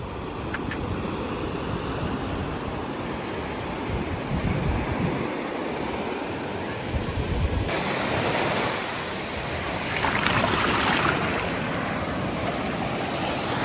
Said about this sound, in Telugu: ఈ వాటర్ సౌండ్ వింటుంటే మస్తు ప్లెజెంట్ అనిపిస్తుంది